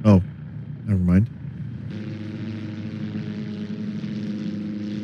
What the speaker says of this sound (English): Is the other plane going to be Bobson Dugnut?